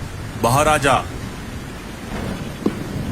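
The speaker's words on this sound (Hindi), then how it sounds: "अचानक से जंगल में तेज बारिश शुरू हो जाती है।" Heavy cartoon rain pours over a forest at night as a steady hiss under and between short bursts of spoken dialogue, with no distinct thunder crack standing out.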